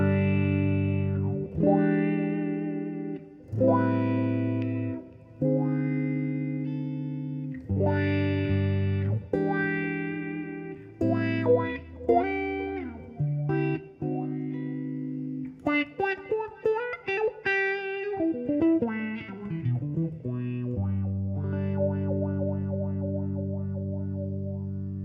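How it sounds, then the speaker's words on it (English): A Boss PW-3 wah pedal on the rich setting shapes a clean electric guitar played through the neck pickup: sustained chords sweep in tone, followed by a quicker run of choppy notes and a final ringing chord, with no talking. "let's just check that out with a clean tone now, again on the rich setting, and have a listen to how it sounds"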